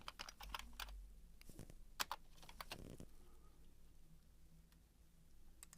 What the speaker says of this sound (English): type an opening angle bracket and a slash, and it puts in the correct closing tag